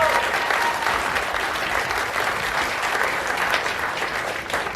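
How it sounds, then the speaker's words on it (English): An audience at an Andrew Yang book tour event in San Francisco breaks into sustained applause, a dense, even wash of clapping from a seated crowd with no pauses. "let's give her a round of applause for it."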